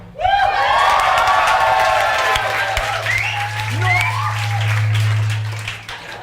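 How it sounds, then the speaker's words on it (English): A played applause-and-cheering sound effect at a live comedy show bursts in loud: crowd clapping with whoops and shouts rising over it, a low steady hum underneath, and the din holds before fading slightly at the end. "Yeah, I put that sound in case your clapping wasn't loud enough."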